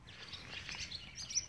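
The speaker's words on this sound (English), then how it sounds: "a lot of birds are flying around" Birds calling around an island front porch in the morning, faint scattered chirps and tweets over a soft outdoor background, fairly distant.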